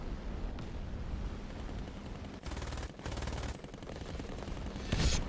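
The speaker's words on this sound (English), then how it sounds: "I'll just use my machine gun and kind of pepper him with bullets." Aircraft machine gun in a video game firing at an IL-2, heard as sustained rattling bursts over a steady engine drone, with a brief louder burst near the end.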